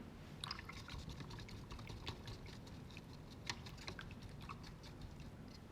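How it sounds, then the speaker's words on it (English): A paintbrush swishes and taps in a water container, giving soft, faint sloshing and light clicking sounds close by with no talk. "So let's now wash this brush out."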